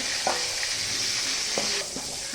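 Four or five green chillies and an onion fry in hot oil in a pan, giving a steady close hiss with a few stirring scrapes and spatula knocks, which eases slightly near the end.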